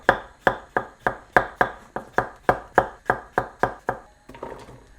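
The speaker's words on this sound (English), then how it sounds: "I am going to prep half the cucumber, and I'm going to take it and chop it to similar size as the onions" A knife chops steadily through half a cucumber on a cutting board, about fourteen crisp, evenly spaced strikes close up, followed by a brief scraping of the slices at the end.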